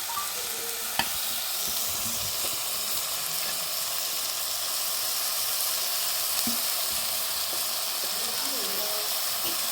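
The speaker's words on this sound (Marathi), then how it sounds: "कांदो आणि मिरची मम्मीने फोडणीत घातल्या ना तर मम्मीने आता भाजी फोडणीत टाकल्या ना" Onion, green chili and vegetables sizzling in hot tempering oil in a home kitchen: a loud, continuous frying hiss with occasional pops and stirring clinks, with no voices over it.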